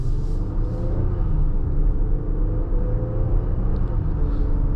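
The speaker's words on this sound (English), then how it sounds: "Got a quick acceleration here." A 2024 Infiniti QX60 Autograph accelerates on a highway, its steady low engine rumble mixing with road and wind noise inside the cabin at an even, sustained level.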